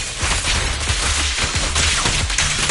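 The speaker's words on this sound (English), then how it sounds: "Watch out for Grim Vulture taking shots from afar." Grim Vulture's gunfire in Zenless Zone Zero comes as rapid, loud bursts of shots that crackle and thud in quick succession, packed densely across the whole stretch with no pause.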